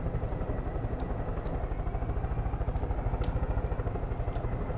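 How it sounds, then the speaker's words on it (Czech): A helicopter in the Far Cry 5 video game flies nearby with a steady, rapid rotor chop and engine drone, loud and continuous, with no talking. "Ježiši, jak se ta helikoptéra ještě dokáže držet ve vzduchu"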